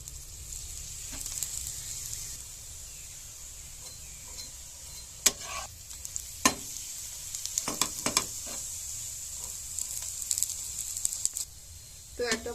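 Cabbage paratha toasting on a hot pan with little oil, a soft continuous sizzle with occasional sharper crackles and spatula scrapes, close and fairly quiet.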